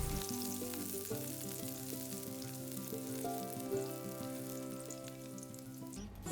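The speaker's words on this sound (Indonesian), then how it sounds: "Selanjutnya, tumis bawang bombay yang sudah diiris tipis." Thinly sliced onions stir-fry in a hot pan, giving a steady close sizzle with a few light scrapes. A faint tonal hum runs underneath, and no one speaks.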